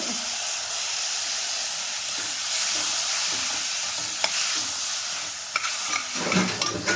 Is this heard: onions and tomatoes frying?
yes